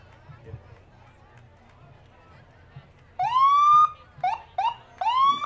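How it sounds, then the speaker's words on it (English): A Minnesota Healthcare Fairview ambulance in the 2021 Forest Lake Fourth of July parade sounds its siren in loud, close rising wails and short yelps after a stretch of quiet crowd murmur. "We've got our Minnesota Healthcare Fairview ambulance."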